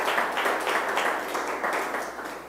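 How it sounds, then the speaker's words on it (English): Audience applause at a spiritual community center service in New York, a dense steady patter of many hands sustained throughout, fading slightly toward the end, with no talking over it. "Give them another round of applause."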